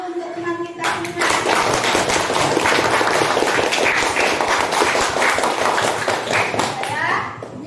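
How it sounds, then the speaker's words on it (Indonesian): A classroom of students bursts into loud, sustained clapping for a classmate after a short spoken line, the dense applause filling several seconds before trailing off. "Kasih tepuk tangan dulu untuk teman kita semua."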